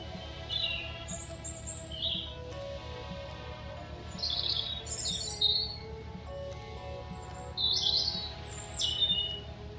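Birds chirping in the video game The Darkside Detective: scattered high tweets and short calls repeat every few seconds over a steady low ambient background, moderately faint.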